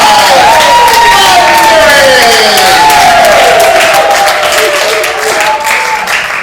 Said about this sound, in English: The crowd rose to a thundering applause!